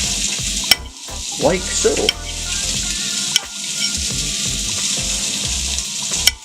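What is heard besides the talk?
sliced mushrooms frying in a pan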